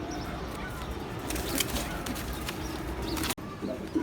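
Pigeons coo softly in a loft where pairs are kept for sale, a steady low murmur of birds with brief wing flutters and a sharp knock near the end.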